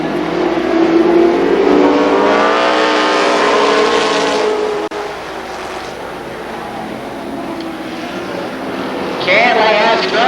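Late model race cars roar around Columbus Motor Speedway during a 1994 heat race, a steady loud engine drone with passing whines, under continuous announcer commentary.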